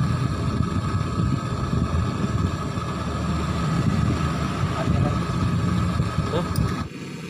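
A refrigerator's own compressor runs to pull a vacuum on the system during a fridge repair, a loud, steady low mechanical hum with rattling texture that drops off near the end.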